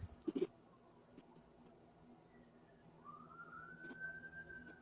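An emergency vehicle siren wails faintly from outside in the distance, its rising tone emerging after a few soft thumps and low background noise.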